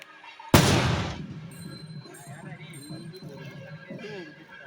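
A single loud firecracker blast set off by boys at a Thaipusam temple street procession, a sharp sudden bang with a decaying rumble, followed by a busy outdoor crowd murmuring.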